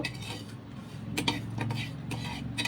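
Metal spoon clinks and scrapes in a pan as panch phoron, fennel seeds and a dried chili are stirred and fried over medium flame, with a few sharp taps over a steady low sizzle.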